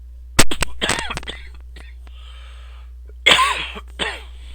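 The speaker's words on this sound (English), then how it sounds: "still got this cough" Two bursts of harsh coughing, one short fit, then after a pause another cough with throat clearing, close and loud.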